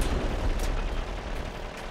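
Gunfire from a Crossout fight in a video game, a dense burst of loud booming shots with crackling noise that stays close and heavy throughout.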